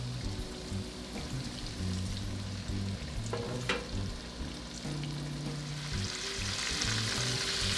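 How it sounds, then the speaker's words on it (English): Buffalo chicken tenders fry in batches in a pan, a steady close sizzle and crackle throughout with occasional spatter pops and no talking. "So I have to fry these in batches."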